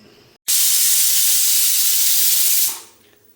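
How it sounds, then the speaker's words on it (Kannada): A pressure cooker of pulao on a home stove vents its whistle: a sudden loud, sharp hiss of steam bursts on, holds steady for about two seconds, then fades away, with no talking over it. "ಸೊ ಇವಾಗ ಒಂದು ವಿಸಿಲ್ ಬಂದಿದೆ"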